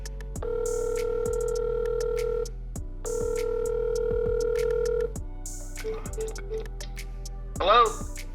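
Outgoing telephone call ringing with two long electronic ring tones separated by a pause, clear and close, followed by brief clicks and a short burst of voice as the line is picked up.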